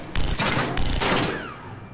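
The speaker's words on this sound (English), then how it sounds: "Shoot the latch." Sustained gunfire in the video game Mass Effect 3, fired at a latch, a loud dense fusillade of rapid shots with a short break midway, ending in a fading tail.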